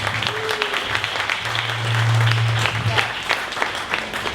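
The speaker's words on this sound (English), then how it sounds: "One more round of applause for Akola." A room full of people gives a round of applause after a presentation at a 1 Million Cups Dallas startup event, a steady clapping crowd with a low hum running underneath.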